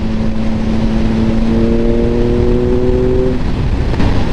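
Triumph Speed Triple 1050 RS naked motorcycle engine, 2025 model, revving on a cold night ride, its tone climbing in pitch for a couple of seconds then dropping away under loud, steady wind rush.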